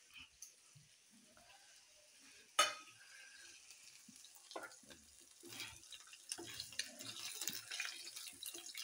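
Chicken 65 pieces frying in oil, a faint, soft sizzle with one sharp clatter early on, the crackle growing busier and louder toward the end.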